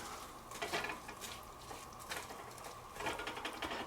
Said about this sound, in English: So we're just going to keep stirring this